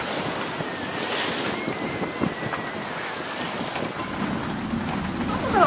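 Choppy sea waves slap and rush around a sailing boat under a strong southeast wind, with steady wind buffeting the microphone close by and no voices.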